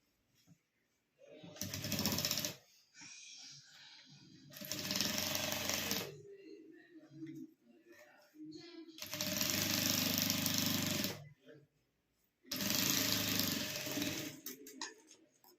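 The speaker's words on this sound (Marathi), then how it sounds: "असं उलट ठेवून याच्यावर टीप मारून घ्यायची आणि दाब टीप देऊन घ्यायची आहे" A home sewing machine stitches a fabric makeup pouch in four loud, steady bursts of rapid mechanical chatter, each a second or two long, separated by quiet pauses with faint handling noises.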